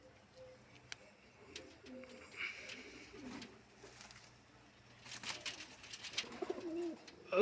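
Heavy, broad-chested fancy pigeons belonging to a pigeon keeper coo softly in quiet, scattered bursts, with occasional light knocks and rustles, growing busier and louder near the end.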